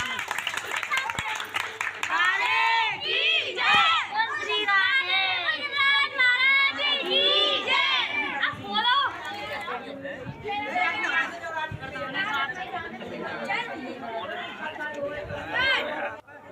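A large village crowd gathers at a celebration held by a winning village head candidate in Sitapur, with dense overlapping chatter of men, women and children, occasional clapping, and voices talking nearby throughout.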